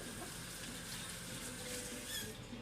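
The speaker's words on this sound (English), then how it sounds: "That'll rinse off my hands because now there's butter on them." A kitchen tap runs steadily as butter is rinsed off hands, a soft, continuous faint water hiss with a brief squeak near the end and no talking.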